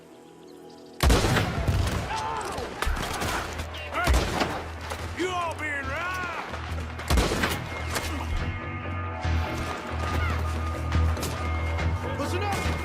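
Gunshots and loud fusillade bursts ring out in a Red Dead Redemption 2 shootout, with sharp reports near 1, 4 and 7 seconds over a rumbling game score, while characters shout and talk throughout.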